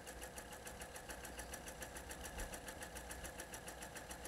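A sewing machine stitching quilt strip sets for a rail fence block, running steadily with a fast, even mechanical rhythm, close and unbroken with no talk.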